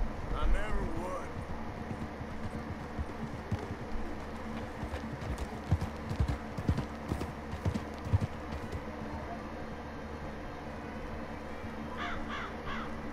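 Horse hooves clip-clopping in Red Dead Redemption 2, a rhythmic series of close thuds over an ambient outdoor bed, with crows cawing and a person talking at times.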